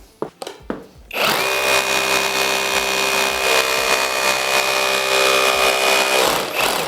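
A cordless power drill from a four-piece battery tool set whirs loudly and steadily for about five seconds with a strong constant pitch, preceded by a few short knocks and bumps.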